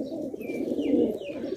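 Pigeons cooing in a loft of fancy breeds, including a bleached white bird, with soft continuous low throaty coos that swell midway, close by, and a few faint chirps above.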